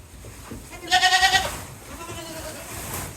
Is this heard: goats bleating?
yes